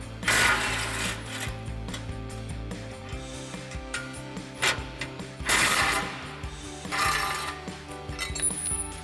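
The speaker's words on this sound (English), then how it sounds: "we'll grab our 15mm socket on our impact and pop those off real quick" Impact wrench with a 15mm socket removing tow hook bolts from the front bumper of a 2021-2023 Ford F-150 Elevation: several sharp, loud bursts of rattling hammering, with mechanical clatter and handling noise between them.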